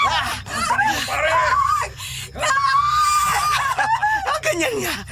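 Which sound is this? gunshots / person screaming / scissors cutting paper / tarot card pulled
person screaming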